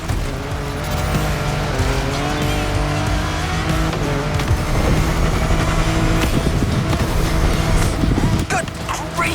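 A racing car engine in The Crew Motorfest video game roars steadily at high revs, with tire squeals and skids cutting through, loud and continuous like arcade game audio.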